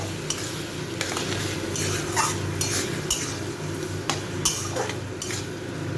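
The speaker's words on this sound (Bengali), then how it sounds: "এই মশলাগুলোকে খুব ভালো করে আমি একটু কষিয়ে নেব।" A spice paste with sugar and a splash of water is stirred and sautéed in a pan, with a low steady sizzle under repeated scraping strokes and light clinks of a spoon against metal, close by and without speech.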